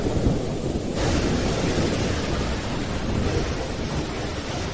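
Heavy rain pours in a steady, dense wash through a windstorm and thunderstorm, with a deep rumble of thunder swelling beneath; the storm noise stays loud and continuous without any voices.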